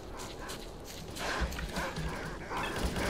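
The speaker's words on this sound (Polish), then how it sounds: "Tam jest kolejny pies." Dogs in a video game bark and yip in several short bursts over a busy, noisy game soundscape.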